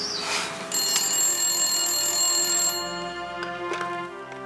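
A telephone rings with a steady electronic trill for a couple of seconds, fairly loud and close, then stops amid faint room noise.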